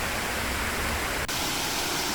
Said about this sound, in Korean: 지금 보시는 쌍용 폭포는 두 마리의 용이 승천하는 형상을 닮아 붙여진 이름으로